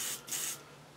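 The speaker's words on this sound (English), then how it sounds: "so I just spray it on the table leg." Short close hiss of an airbrush blasting out leftover green paint onto a table leg, two quick bursts in about a second, quiet and alone.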